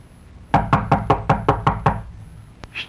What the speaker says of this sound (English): She's knocking on the door.